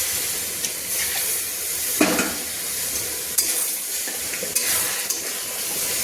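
Warm milk is poured little by little into semolina over a low flame and stirred, giving a close steady hiss with several sharp bursts of sizzle and scraping as the batter is worked in a pan.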